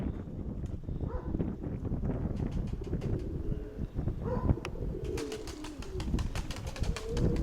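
Several pigeons coo close by in soft, repeated throaty calls, with occasional light clicks and shuffling mixed in.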